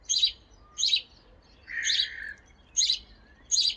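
House sparrow giving a cheerful chirping call, five crisp chirps spaced about evenly, with the middle one longer and lower, close and clear against near silence.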